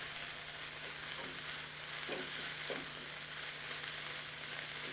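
Onions and meat sizzle in a pan without oil, a steady close frying hiss with a few soft stirring scrapes and no talk.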